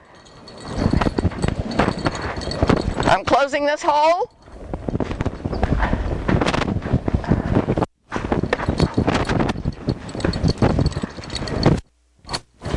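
Two horses' hooves clip-clop and scrape on the ground amid steady talking, with a high whinny-like squeal partway through.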